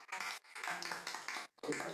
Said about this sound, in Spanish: Un aplauso también para ustedes que nos acompañan